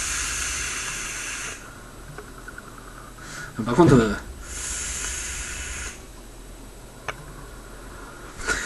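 A Mini Goblin e-cigarette atomizer fired at 50 watts gives a steady airy hiss for a few seconds, then a louder, grittier crackling burst at mid-clip, with a voice talking over parts of it.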